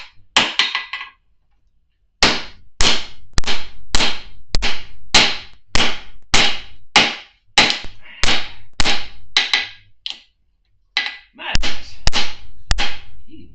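A 2-pound hammer forging hot metal at a blacksmith's anvil: after a few opening strikes and a short pause, about eighteen sharp, loud, evenly spaced blows ring out in a steady rhythm, close up with no talk.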